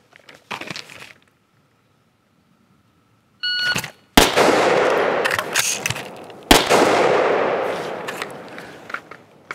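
Sharp gunshots from a rifle during a timed reload drill: a quick burst, a pause, then a dense run of close, loud reports, with a few electronic beeps from a shot timer.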